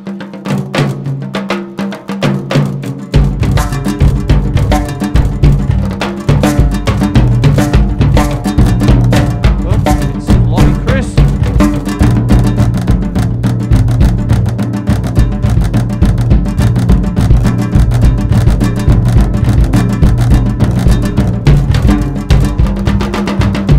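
African rhythm drumming with sharp rim shots cracking on tom-toms, a dense, loud, steady groove that kicks in after a brief quieter lead-in and runs continuously with a bright, cowbell-like click on the attacks.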